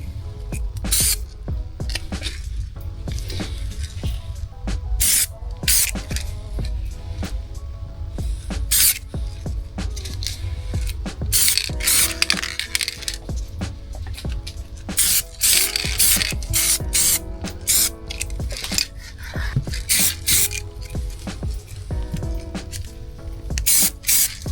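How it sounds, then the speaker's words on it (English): An aerosol spray paint can hisses onto an airsoft gun in repeated short bursts, close and steady, with bright sharp spurts over a constant low rumble. "get the spray paint against the pattern and spraying away, and that way it'll do a lovely fade"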